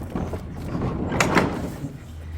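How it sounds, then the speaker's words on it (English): A barn door slides open with a rough, rumbling scrape that swells to a brief grinding peak in the middle and then settles into a low drone, heard close and alone. "the barn door slides open"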